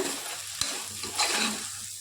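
Vegetables, soy chunks, spices and rice being stirred together in a pan for vegetable biryani, with a soft sizzle under a single sharp utensil knock and a brief swell of scraping.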